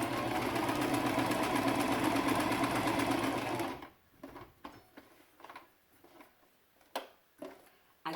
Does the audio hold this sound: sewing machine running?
yes